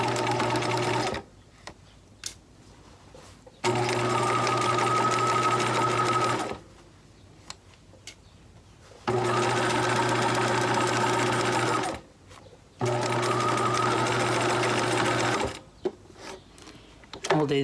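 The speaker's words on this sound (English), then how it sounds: "So we're going to sew this whole thing at 1/4 of an inch, back stitching at the beginning and at the end." Sewing machine stitching the seams of a pleated fabric face mask at a quarter-inch seam allowance, running in four long steady bursts of several seconds each with short quiet pauses between, close and loud.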